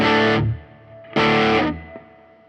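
Electric guitar played through a Fender Mustang Micro Plus headphone amp with reverb on, two loud distorted strummed chords each ringing out and fading into a reverb tail, close and alone.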